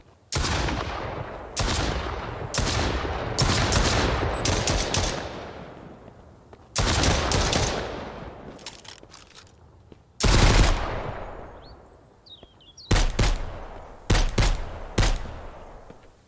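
Gunfire in the video game Mist Survival: several loud bursts of rapid shots, each followed by a decaying echo, separated by short quiet gaps across the clip.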